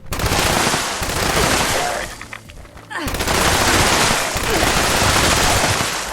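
A Two Shot Explosive Light Machine Gun fires in Fallout 76, loud sustained bursts of rapid gunfire with explosive crackle, a brief pause in the middle, then another long burst.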